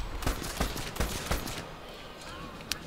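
Sniper and rifle fire rattles in Medal of Honor Airborne, a quick series of sharp gunshots with rumbling tails, then a lone crack near the end.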